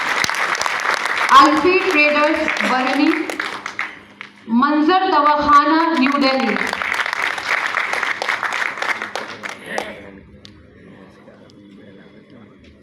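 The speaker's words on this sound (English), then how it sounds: "Please give a huge round of applause, everyone." Applause from an audience at a college's platinum jubilee ceremony, a steady spread of clapping that runs under a man announcing names over a loudspeaker, then fades out toward the end.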